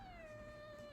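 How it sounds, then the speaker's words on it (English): A cat meows close to the microphone in one sustained, clear call with a steady, slightly falling pitch, loud and alone with no talking. "that's a good meow right in the mic"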